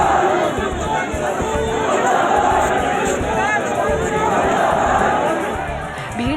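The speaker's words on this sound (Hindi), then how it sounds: "भीड़ जोर जोर से मजहबी नारे लगा रही थी।" A large crowd outside Jama Masjid in Delhi loudly chants religious slogans after Friday prayers, a dense, continuous roar of many voices shouting together throughout.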